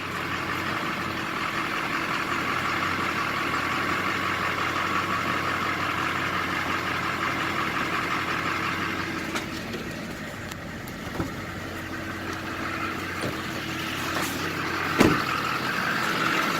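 A truck engine idles steadily close by during a roadside tire bead job on a wide tire and narrow rim, a constant low rumble with a faint hum and a few small clicks and knocks, and no one speaking.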